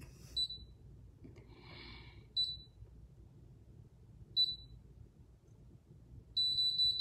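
A hair relaxing device gives several short, high electronic beeps spaced a couple of seconds apart, then one longer sustained beep, clear against a quiet room with faint background noise.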